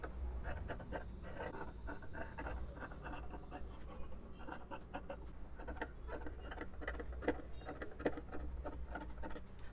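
Scissors cut fabric in a curve to shape a kurti neckline, giving close, continuous rasping snips and rubbing scrapes with a rhythmic ticking quality throughout.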